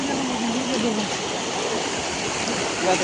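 Fast-flowing flood water in Ratanpur, Hailakandi, during the 2025 flood gives a constant, close broadband rush, with a voice faintly heard over it.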